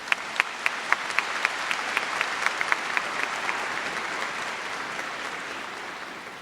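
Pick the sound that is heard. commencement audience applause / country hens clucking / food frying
commencement audience applause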